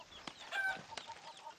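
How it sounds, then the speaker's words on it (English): A fighting rooster clucks in the video game Far Cry 6, a few short, fairly faint clucks over low background ambience, with no talking. "It's my fighting rooster, El Gallo Magnifico."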